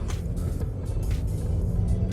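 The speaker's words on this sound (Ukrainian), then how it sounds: "Ось автомобіль сам рушає без газу." An Audi A4 diesel quattro creeping off at idle with no throttle gives a steady, close low engine rumble, with faint intermittent hiss in the cabin and no talking.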